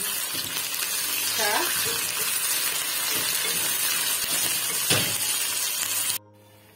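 Onions and dhania frying in a pan, a steady loud sizzle with occasional stirring scrapes and a brief voice, cutting off abruptly near the end.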